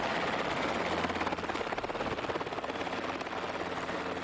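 A helicopter flies with a rapid, steady rotor chop, a continuous thumping whir that holds at a constant distance and plays alone without voices.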